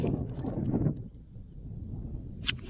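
Gusty wind rumbles and buffets the microphone on a flat riverside bike route, steady low roar with a brief hiss burst near the end.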